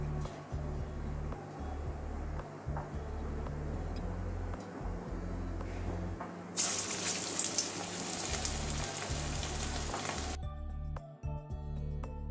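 Stuffed kakrol (teasel gourd) frying in hot oil, a steady close sizzle and crackle filling the whole stretch, growing brighter and louder midway before dropping back to a quieter sputter near the end.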